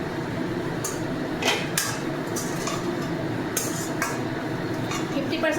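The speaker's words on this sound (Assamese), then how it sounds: "এতিয়া ধুনীয়াকৈ লৰাই লওঁ" A spoon scrapes and clinks against a cooking pot as food is stirred, with several sharp metallic knocks at irregular intervals over a low background hum.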